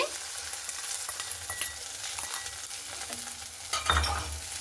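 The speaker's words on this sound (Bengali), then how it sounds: "এরপরে দেখুন ফেটানো ডিমটা আমি দিয়ে দিচ্ছি" Beaten egg sizzles in a pan of onions as it is stirred, a steady frying crackle with soft scraping strokes and a louder burst of sizzle near the end, no voices.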